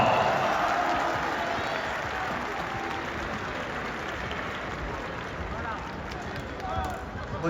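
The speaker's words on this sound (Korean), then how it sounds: "마지막으로 저희 선수들을 이끌으신 감독님을 박수로 모시겠습니다." Applause from a crowd at a Korean football club's post-match ceremony after Daegu FC's relegation playoff against Chungnam Asan, greeting the team's coach; steady, fairly distant clapping holds throughout with voices mixed in.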